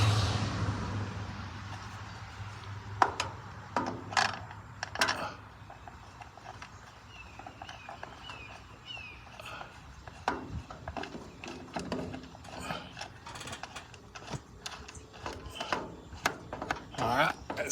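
A ratchet wrench tightens a nut on the mirror mount of a Kubota L4701 tractor, giving close, irregular bursts of quick clicks with metallic handling sounds between them.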